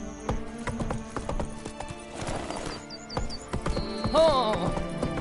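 A horse gallops in The Witcher 3: Blood and Wine video game. Hoofbeats clip-clop rapidly over rustling ground, and a loud whinny breaks through near the end amid game sound effects.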